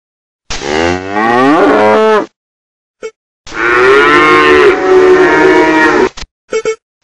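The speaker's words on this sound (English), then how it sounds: "cow," Farm cow mooing loudly up close, two long drawn-out lowing calls separated by a short pause, with a few faint brief sounds in between and no talking.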